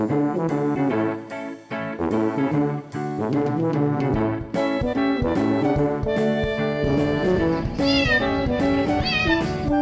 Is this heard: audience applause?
no